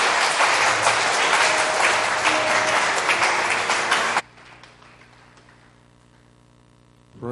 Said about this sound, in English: If you want to clap, clap for Jesus.